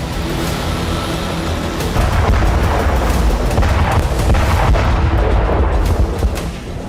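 Missile and artillery fire along the Israeli border, heard as dense, rumbling booms and blasts that roll together in a loud, continuous barrage with no speech.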